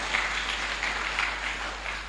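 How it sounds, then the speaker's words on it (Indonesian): Church congregation clapping in applause during a Sunday worship service, a steady dense patter of many hands heard from across the room, continuous and moderately loud for about two seconds. "beri tepuk tangan kemuliaan buat Tuhan"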